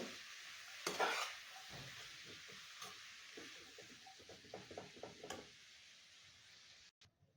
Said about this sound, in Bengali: একটু উলটপালট করে নেড়ে নিব